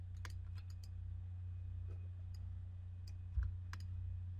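Scattered sharp clicks of computer keyboard keys and mouse buttons while working in countertop design software, faint and irregular over a steady low electrical hum.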